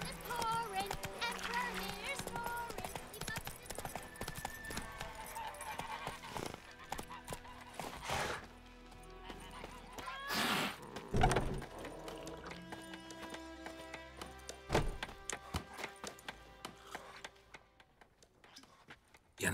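Roach, Geralt's horse in The Witcher 3, gallops with quick rhythmic hoofbeats under loud music, game effects and voices speaking, with occasional heavy hits breaking through.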